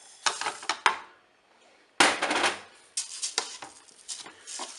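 Rice being stirred in a Cookeo electric pot: scraping spoon strokes and clinks against the metal bowl come in uneven bursts, with a faint sizzle between them and a brief pause near the middle.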